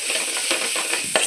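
Masala spices, chili powder, cumin and coriander powder, are stirred in a frying pan over a bright sizzle, with quick metal spoon scrapes and a clink near the end.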